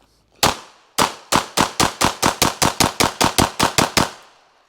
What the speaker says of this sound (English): Let's just shoot, see what we get.